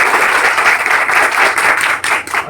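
Students at an IIT bootcamp applaud in a loud, dense burst of clapping that carries steadily through and thins slightly near the end.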